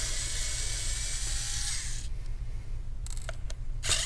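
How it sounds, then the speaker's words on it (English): An electric screwdriver whirs steadily for about two seconds while backing a screw out of a Dell Inspiron 15 7000 series P58F laptop during motherboard removal, then stops, leaving a few faint clicks and taps. "Let me take out this screw."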